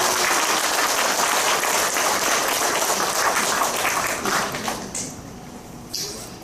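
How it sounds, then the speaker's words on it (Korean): A church congregation applauds in encouragement during a worship service. The steady, dense clapping continues for several seconds, then tapers off to scattered claps. "저쪽에 큰 박수로 격려하도록 하겠습니다."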